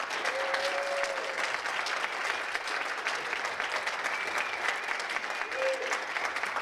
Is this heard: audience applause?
yes